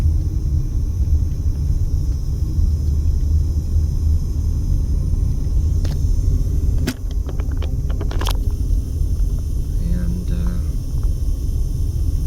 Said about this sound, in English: A lot of box vans and U-Haul trucks out here running around.